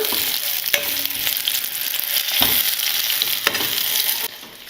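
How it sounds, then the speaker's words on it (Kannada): Chillies sizzle and crackle in a pan with tamarind, for a village-style chilli thokku, a steady dense frying hiss broken by a few sharp stirring scrapes, close and fairly loud with no voices. "ಜಸ್ಟ್ ಒಂದು 2 ನಿಮಿಷ ಇದನ್ನ ಈ ರೀತಿ ಫ್ರೈ ಮಾಡ್ಕೊಂಡ್ಬಿಟ್ಟು ಸ್ಟವ್ನ ಆಫ್ ಮಾಡ್ಕೊಂಡ್ಬಿಡೋಣ"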